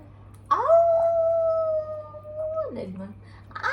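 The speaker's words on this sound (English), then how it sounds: "What's the sound of wolf?" A wolf lets out one long, steady howl lasting about two seconds that drops away at the end, followed by brief voices and rustling close by.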